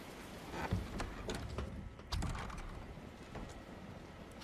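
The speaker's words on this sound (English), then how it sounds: "and now it's raining." Rain falls in the video game Tales of Berseria as a faint, steady patter with a few soft pulses, continuous and without voices.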